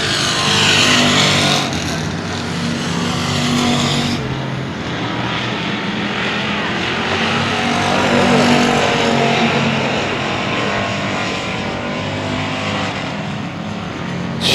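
Race cars thunder around a dirt speedway oval on the final lap, a continuous loud engine roar that swells and fades as the pack passes, with no voices.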